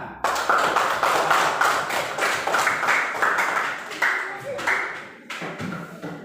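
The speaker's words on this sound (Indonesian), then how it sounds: "tepuk tangan" Classroom students clap their hands together in a burst of fairly loud, continuous claps that thin out and stop near the end, with voices mixed in.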